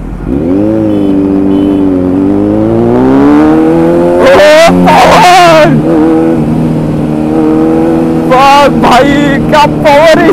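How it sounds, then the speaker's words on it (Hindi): A Kawasaki Z900 motorcycle fitted with an Akrapovic full-system exhaust revs loudly up close, its engine note climbing and falling in long sweeps, with sharp, crackling bursts of throttle in between. "इस पे लगा एक्राफोविक का फुल सिस्टम एग्जॉस्ट"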